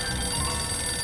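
A telephone rings in the Sam and Max Save the World video game, a steady bright ringing that fills the short moment on its own, with no talk over it.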